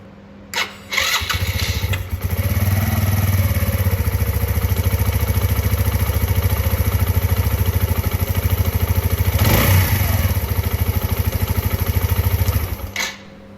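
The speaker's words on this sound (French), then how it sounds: "on va démarrer la moto" A motorcycle engine with a newly replaced starter motor cranks and catches, then settles into a loud, steady idle with a brief rev before it shuts off.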